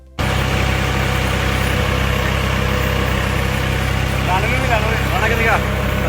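A tractor driven by someone around a Punjab village, its engine holding a steady, loud, low drone from start to finish, with voices talking over it.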